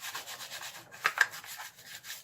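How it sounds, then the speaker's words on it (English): Transformer parts being lightly scrubbed in detergent make soft rhythmic brushing and rubbing strokes, with a couple of louder scrapes midway, faint and close. "Don't go over the top with the scrubbing, just give it a light scrub, and just keep dipping it to keep it wet."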